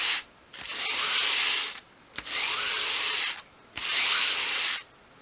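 Sandpaper rubbed across a small upright wooden piece for dolls house furniture in single-direction strokes: three long, steady, close scratchy passes separated by short pauses.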